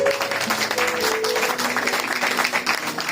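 A church congregation applauds loudly and steadily throughout, with sustained musical tones sounding beneath the clapping.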